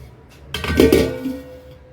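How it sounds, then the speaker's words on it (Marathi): A lid is set down over a bowl of mixed idli batter in a home kitchen, one soft clattering contact with a short ringing tail, alone in a quiet room. "याच्यावर आता आपण एक झाकण ठेवणार आहोत, अर्ध्या तासासाठी झाकून ठेवणार आहोत।"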